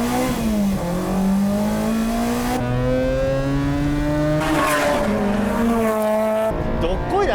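A Mazda RX-8 race car accelerates hard on a track, its rotary engine climbing through the revs in a loud, sustained wail with a gear shift midway and brief tire noise, while a person talks over it.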